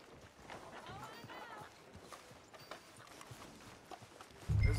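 Galloping hooves of a horse in Red Dead Redemption 2, a steady rapid clip-clop running beneath ongoing speech and game ambience, with a louder burst of sound right at the end.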